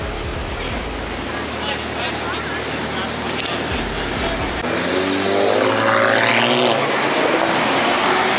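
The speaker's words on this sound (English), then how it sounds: "it's a BMW" A BMW car driving past at a rotary-themed car meet in New York City, engine rising as it approaches and passes, with people talking over the traffic noise.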